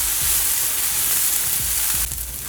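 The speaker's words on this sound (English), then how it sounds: "we're going to allow that to saute until it's nice and tender" Scallions and onions sautéing in a pan give a steady, close hiss and crackle, with soft stirring scrapes, the sizzle dipping slightly near the end.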